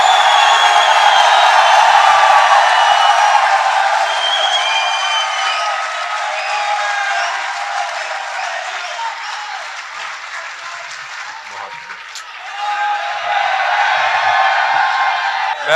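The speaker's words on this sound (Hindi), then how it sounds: "अली भाई के लिए भरपूर तालियां कीजिए।" A crowd at a poetry gathering gives loud, sustained applause to welcome the poet Ali Bhai. The clapping dips briefly in the middle and swells again, with faint voices mixed in.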